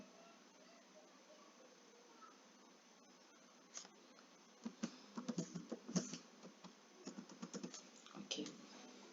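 A computer keyboard is typed on to enter an email password, giving faint, quick clusters of light key taps that begin after a few quiet seconds and continue in uneven bursts.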